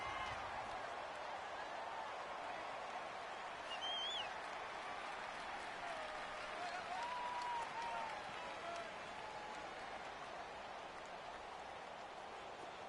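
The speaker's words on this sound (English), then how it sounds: "The crowd here in the Dome making things difficult." Stadium crowd noise inside the Dome during an American football video game, a low, steady, distant murmur and rumble of fans with faint whistles, running quietly under commentary throughout.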